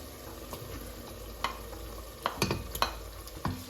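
Cuttlefish fry with onion and garlic in oil for Tunisian couscous, a soft steady sizzle with scattered sharper pops and spoon scrapes from stirring, close and quiet with no voices.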